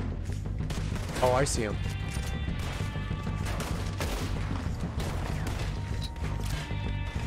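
Gunfire from the video game Red Dead Redemption 2 crackles in repeated bursts beneath a busy in-game soundscape, with a player talking over the shots.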